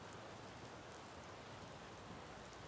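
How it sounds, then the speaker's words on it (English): Steady rain pours down in a dense, even hiss that fills the whole stretch, soft and continuous with no voices over it. "We don't have to worry about the rain pouring on us anymore."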